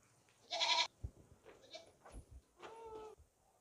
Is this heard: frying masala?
no